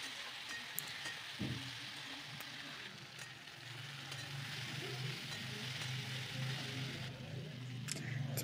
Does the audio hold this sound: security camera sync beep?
no